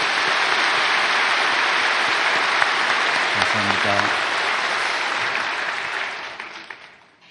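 Church congregation applauding during a worship service, dense sustained clapping that fills most of the clip and tapers off at the end, with a voice speaking briefly over it.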